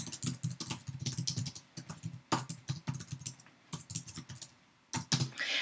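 Quick, uneven bursts of keystrokes on a computer keyboard while text is entered into an inline editor, close and fairly quiet, with a brief pause near the end before the typing resumes.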